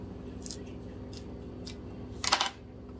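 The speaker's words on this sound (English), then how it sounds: "I could always use my little scissors and maybe put one more in there" Small scissors snip while African violet cuttings are trimmed during repotting, a few faint clicks early on and one louder, sharper cluster of snips near the end, over a low steady background hum.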